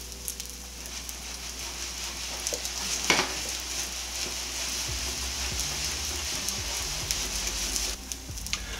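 Mashed potato pancake batter sizzling steadily in a hot pan, a continuous close frying crackle with scattered pops and a brief louder spatter partway through, no talking.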